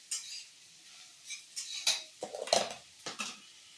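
A spatula stirs a broad bean fry seasoned with salt in a pan, giving close, irregular metallic scrapes and clinks in short bursts with quiet gaps between strokes.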